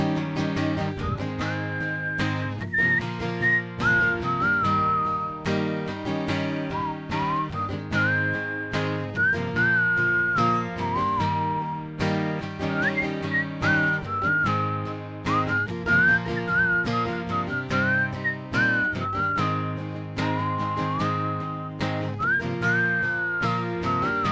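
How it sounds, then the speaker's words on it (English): A melodic whistled tune carries over steady instrumental backing, sliding between notes in a continuous solo line at a fairly full level. "Comes another whistle solo."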